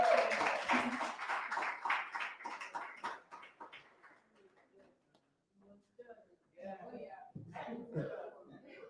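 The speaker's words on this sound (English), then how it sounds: "Let us give a hand of applause yet again" An audience applauds after a lunchtime lecture, with dense clapping at the start that thins and fades, then scattered voices and a few claps near the end.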